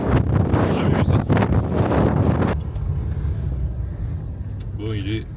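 Strong wind at night at a bivouac campsite in Portugal during a storm, roaring gusts buffeting the microphone loudly for a few seconds, then easing to a steadier rushing background with a voice briefly heard.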